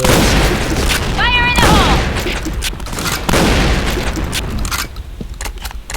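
Rapid gunfire and booms in the video game Point Blank, bursts of shots continuing for several seconds then thinning out, loud, with players talking over it.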